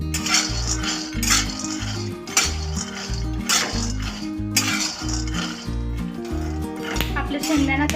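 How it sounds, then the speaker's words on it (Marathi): Peanuts roasting in a pan over a gas stove, with a metal spoon clinking and scraping against the pan at intervals, partly masked by steady backing music. "शेंगदाणे आपण नंतर गॅस आचेवर ठेवून छान खरपूस होईपर्यंत भाजून घेऊया।"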